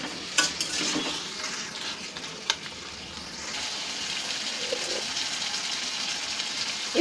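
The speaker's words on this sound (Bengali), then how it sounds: "ভালো করে নাড়াচাড়া করে দিচ্ছি।" Chicken stirred and fried in a pan for chicken kosha, a moderate sizzle with sharp spoon clanks early on and softer scraping afterward.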